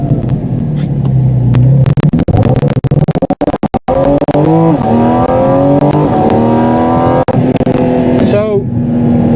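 A Porsche 718 GT4 RS Weissach drives on a wet road, its engine loud and close with rising and falling revs and gear changes, and a voice speaks over it at times.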